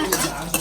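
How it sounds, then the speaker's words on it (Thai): Chinese kale stir-fried in oil in a pan, with a steady close sizzle broken by two quick scraping stirs of a utensil against the metal. "ผัดคะน้าค่ะผัดคะน้าน้ำมัน"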